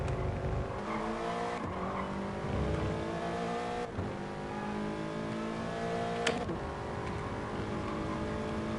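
Gran Turismo Sport race cars, Toyota GT86 cup machines at Suzuka, roar past with steady high engine drones and shifting pitch, several cars close together, with occasional sharp gear changes and brief tire sounds, fairly quiet overall.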